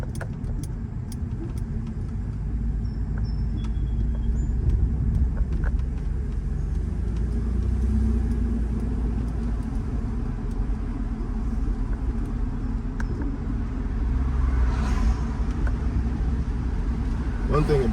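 A Mercedes W211 E350 sedan rolling over a bumpy New York street, with a steady low road rumble and engine drone throughout and faint rattles over the bumps.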